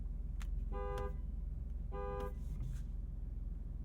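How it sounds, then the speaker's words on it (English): Horn of a Maserati GranTurismo Trofeo sounding two short, clear harmonic honks about a second apart, over a steady low engine and road hum inside the car. "Let's kick things off with the world famous horn test."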